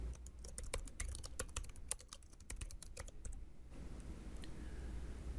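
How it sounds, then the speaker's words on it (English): Someone types on a computer keyboard, a quick irregular run of close, crisp key clicks that stops partway through, leaving low room hiss. "Then type in the unique part of the boundary,"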